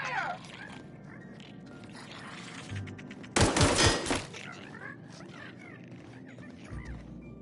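Gunfire in The Outer Worlds: one dense burst of loud shots, about half a second long, that cuts in suddenly over quieter ambient game sound, with voices and other noises before and after it.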